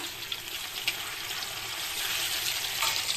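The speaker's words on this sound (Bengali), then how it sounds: "এইদিকে দেখো আলু ভাজা হচ্ছে" Potatoes fry in oil in a pan for veg dalia, with a steady, close sizzle and bubbling that holds evenly throughout and swells slightly toward the end.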